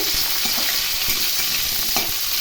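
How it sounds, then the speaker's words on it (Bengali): Two diced potatoes sizzle steadily in a hot pan for a Bengali mixed-vegetable sabji, with several soft scraping strokes from a spoon stirring through them, close up and without talk. "আলুগুলো একটু নাড়াচাড়া করে নিয়ে এর মধ্যে"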